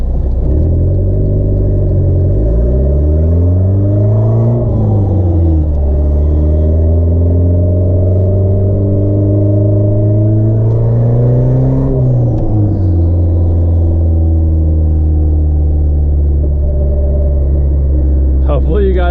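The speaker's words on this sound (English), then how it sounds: "Hopefully you'll be able to hear how much it spools and like how much noise this turbo makes." A turbocharged Honda Civic accelerates hard, its loud booming exhaust climbing in pitch twice, dropping between the pulls as the turbo spools. The rumbling engine is close, very loud and continuous throughout.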